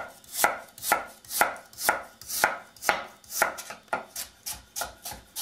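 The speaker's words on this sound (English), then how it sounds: "Starting to cut it this way. So this is a lot of lotus root." A knife chops steadily through lotus root on a board in a home kitchen, about a dozen crisp, evenly paced cuts ringing out loud and close with no talking.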